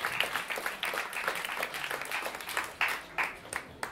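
An audience at a concert claps and applauds for a singer, with dense, steady clapping and a few louder bursts near the end.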